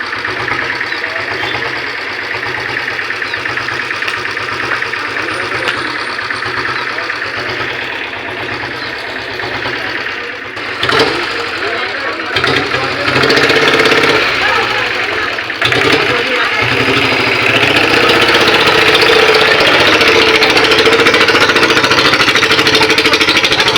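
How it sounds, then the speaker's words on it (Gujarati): An auto rickshaw engine runs at idle nearby, a steady rough chugging drone that grows louder partway through, with people talking over it. "રિક્ષા ચાલુ થઈ ગઈ છે, હમણાં નીકળે રિક્ષા ચાલુ."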